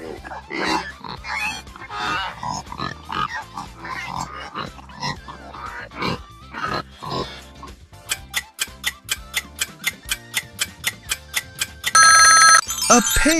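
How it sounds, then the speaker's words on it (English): A pig grunts and oinks in quick, choppy bursts, close and busy. A steady series of clock-like ticks follows, ending in a short ringing chime. "A pig!"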